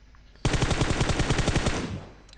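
A rapid burst of automatic gunfire in PUBG Mobile, close and loud, lasting about a second and a half before cutting off.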